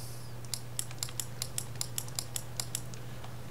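Playing cards for the Lord of the Rings card game riffle in a quick run of crisp, evenly spaced snaps over a low steady hum, fairly quiet and close.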